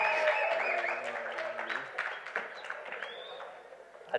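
A crowd at a live event applauds for a guest called Achayan, scattered claps starting under talk and music that fade out, then thin, sparse clapping trailing off toward the end.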